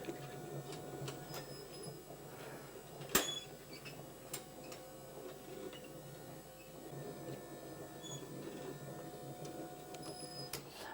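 The wind-up mechanism of a handmade model toy featuring ostrich and horse figures whirs and clicks softly nearby, a faint mechanical hum punctuated by irregular small ticks and one sharper clack.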